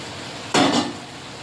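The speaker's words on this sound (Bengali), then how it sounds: "দিয়ে ভালো করে কষিয়ে নেব মাংসটা" Marinated chicken drops into a hot pan of cooked-down spices with a short, loud clatter and scrape of metal on cookware, then quiet; no talking.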